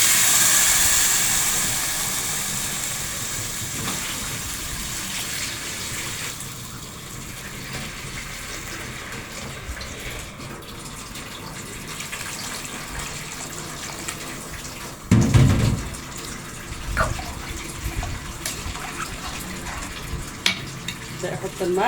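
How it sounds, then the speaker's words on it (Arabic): Water pours into a pan of rice for an Egyptian oven dish, a steady hissing splash that fades into quieter bubbling and sizzling, with a sharp knock of the pot midway. "نحط الميه بتاعتنا."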